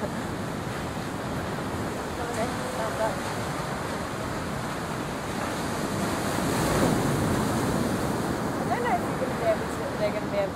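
Ocean surf at Venice Beach rolls in steadily with a broad wash of breaking waves and some wind rumble on the microphone, continuous and fairly loud throughout, with no voices.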